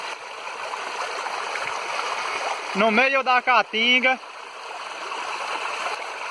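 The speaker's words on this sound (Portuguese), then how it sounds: "No meio da caatinga se forma uma linda cachoeira, linda de se ver." After a heavy storm, a waterfall forms where a reservoir overflows in the caatinga scrubland, giving a constant broad rushing of water throughout while someone speaks briefly over it.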